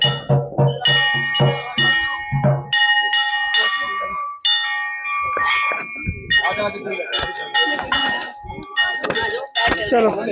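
Bells ring at Kartik Swami Temple in Uttarakhand, a series of clear metallic clangs, some quick and repeated, others ringing out longer, while a voice talks over them nearby.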